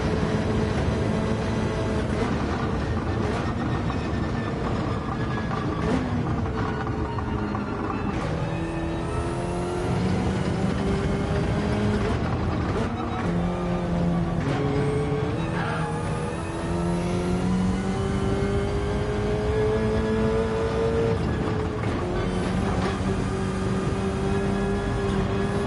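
A Gr3 race car in Gran Turismo 7 at the Nürburgring 24-hour circuit, its engine droning loud and steady throughout with rising and falling pitch as it revs and shifts, close and unbroken.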